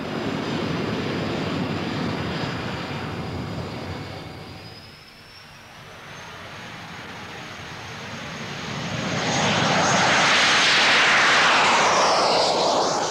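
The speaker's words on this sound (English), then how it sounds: "The Jet Provost first flew as long ago as 1954." Jet Provost jet trainer in flight, its engine a steady broadband roar with a whining tone that dips briefly then swells louder and closer toward the end, no voices.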